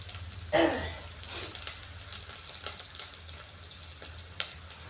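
Chana dal, urad dal and onion fry in a pan with a soft, steady crackle. A brief louder clatter comes early, then faint scattered pops over a low background hum.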